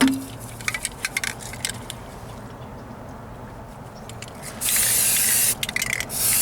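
A second primer coat is sprayed onto a driver-side floor pan patch on a Ford Ranger: scattered short hisses, then one long, steady, close spray burst near the end, with no talking.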